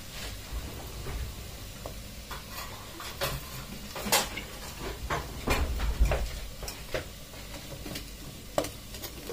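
Oil sizzles and crackles steadily as food deep fries, with scattered sharp pops and occasional clinks of a utensil against the pan.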